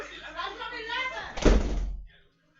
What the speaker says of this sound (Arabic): اقفل الباب